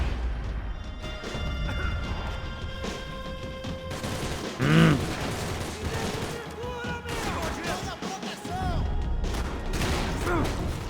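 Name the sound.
gunfire in video game Max Payne 3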